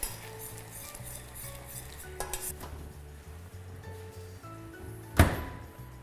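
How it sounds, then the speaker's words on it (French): Softened butter, partly melted in a microwave, is stirred in a bowl, giving soft, repeated scraping and tapping of a utensil against the bowl with a few clinks and one sharper knock near the end. "ici je vais mélanger le beurre"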